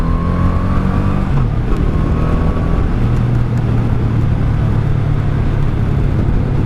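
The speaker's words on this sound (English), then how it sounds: "She's happy to rev." A 1984 Honda Shadow 700 (VT700C) motorcycle engine runs loud and close, its rumbling note shifting in pitch early on and then holding a steady, revved drone; no voices.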